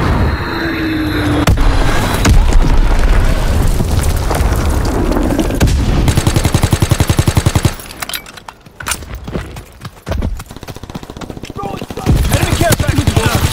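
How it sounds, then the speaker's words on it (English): An Azon bomb drops and detonates in Call of Duty WW2, a loud sustained rumbling barrage of booms and rapid crackling blasts that cuts off, then resumes after a brief quieter gap. "Dropping Azon bomb"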